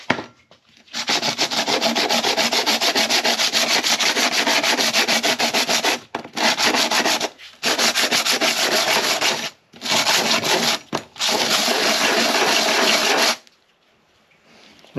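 An engine gasket surface on a hydraulic roller lifter job is sanded by hand with 60-grit sandpaper, producing close, loud, rapid back-and-forth rasping strokes in long bursts with brief pauses, then stopping near the end.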